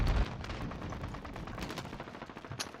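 Rapid gunfire from an AK-47 in an online video game shooter, with quick bursts of shots and sharp cracks at moderate loudness over a busy battle background.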